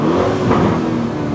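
A 2023 Lamborghini Urus 4.0 V8 S in Corsa mode gives a loud, sustained engine rumble heard from inside the cabin, holding steady with a slight swell midway and no talking.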